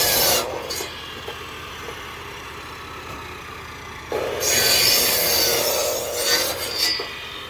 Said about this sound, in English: As I'm sawing down, Brittany is continuously pulling and settin